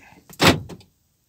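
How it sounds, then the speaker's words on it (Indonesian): Auto lock module on a Daihatsu Sigra locking all the door switches at once, one sharp mechanical clunk near the car with a brief shorter click just before and after, alone without talk. "Semua switch pintu kekunci."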